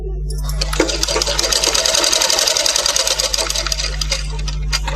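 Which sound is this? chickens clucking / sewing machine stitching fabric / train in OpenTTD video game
sewing machine stitching fabric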